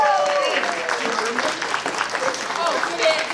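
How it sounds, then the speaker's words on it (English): An audience applauds at an improv comedy show, a full, steady patter of many hands. Spoken voices and a few whoops cut through the clapping, which stays fairly loud and continuous throughout. "Give them a round of applause."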